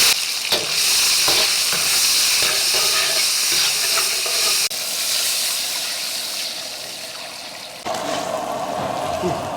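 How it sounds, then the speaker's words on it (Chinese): Tomatoes stir-fry in a hot pan, sizzling and hissing loudly and steadily close by, with scraping stirs and a few clatters, the sizzle dropping and surging as the pan is worked. "先把西红柿炒一下"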